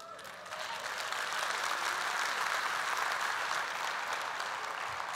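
A church audience breaks into sustained applause during a testimony, steady crowd clapping that swells in quickly and holds at an even level throughout, heard at moderate distance.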